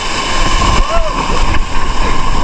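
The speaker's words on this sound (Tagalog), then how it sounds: "sa lakas ng alon guys, parang waves." Strong sea waves splash and surge loudly during fishing from a small boat, a continuous roar of water with a voice talking over it.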